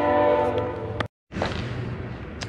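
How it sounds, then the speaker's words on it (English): A train passes close by and sounds a loud sustained horn, which cuts off abruptly and gives way to the rumbling, clattering roar of the rail cars rolling past. "All right, train is passing."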